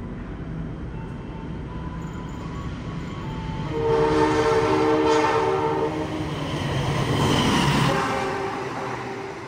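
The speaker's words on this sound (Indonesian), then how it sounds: "Kereta MTT atau sepaket kereta berwarna kuning itu merupakan salah satu sarana di perkeretaapian untuk perawatan jalan rel." A yellow MTT rail track maintenance train passes along the line at a station, with loud rumbling wheels and engine noise swelling midway and a long tonal horn or whistle sounding through the passage.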